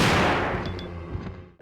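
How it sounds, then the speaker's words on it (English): Custom shotgun fires in Resident Evil 2 (1998): a single loud, heavy blast that booms and decays over about a second and a half, with faint mechanical clicks in the tail. "this is where you can assemble one of the best weapons in all of video games, the custom shotgun"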